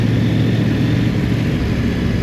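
A CF-Moto 800NK motorcycle engine pulling hard in a power wheelie, a loud, steady, close droning roar sustained throughout with wind noise layered over it.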